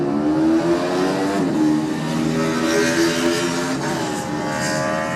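A Greenhill Racing Honda superbike at the Classic TT screams past with a high revving engine note that rises and shifts pitch as it passes close by, loud and unbroken.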